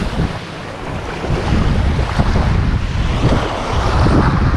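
Strong wind roars steadily across the microphone at a beach fishing spot, mixed with the broad wash of surf, loud and continuous throughout with no talking.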